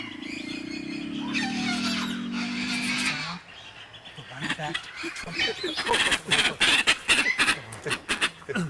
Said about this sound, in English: I've got the white-backed trumpeter.